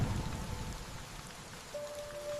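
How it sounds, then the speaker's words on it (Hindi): Steady rain falls through a forest, a dense even hiss of drops on leaves and ground with no voices, holding at a constant moderate level throughout. "आखिरकार बारिश लौट आई और जंगल फिर से हरा भरा हो गया"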